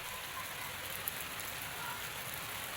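Heavy rain falling in Lahore, a steady broadband hiss of drops on surfaces, faint and continuous, with one small tap standing out and no talking.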